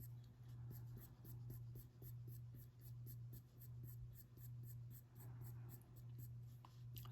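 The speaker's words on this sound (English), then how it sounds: "touch that pencil to the paper and it makes a mark" Colored pencil strokes on drafting film while drawing a leopard's fur, a steady close scratching in quick repeated passes following the hair direction, with a constant low hum beneath and no talking.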